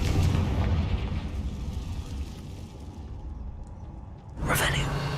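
A Confringo blasting spell from Hogwarts Legacy bursts near the end, a single sharp fiery blast rising out of a steady rumbling game soundscape.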